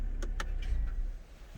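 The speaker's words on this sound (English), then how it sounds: "So let's go and shut her down." A 2021 BMW M440i coupe powering down in a quiet cabin, a few short close mechanical clicks and whirs at the start, then a low rumble that fades away to near silence.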